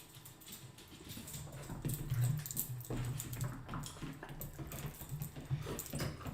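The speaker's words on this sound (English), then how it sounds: "there's my excited dog at my feet right now" An excited dog moves around underfoot indoors, its claws tapping and pattering in quick irregular bursts at moderate closeness, with soft rustling and shuffling in between.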